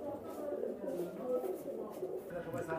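Several pigeons coo in low, continuous murmuring calls close by, blending together while someone speaks over them.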